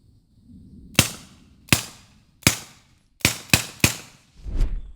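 Six pistol shots fired through a SilencerCo Spectre 9 suppressor at an outdoor range, dry cracks with short decays, the first three evenly spaced, the last three fired in a quicker cluster, followed by a dull thump.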